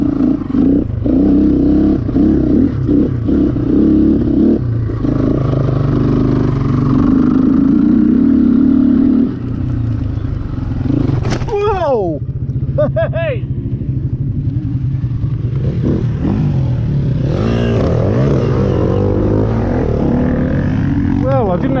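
A Kawasaki GPX 250e motorcycle revs hard through a hot lap on a track, its engine note rising and falling repeatedly with sharp upshift sweeps, loud and near, with a voice at times.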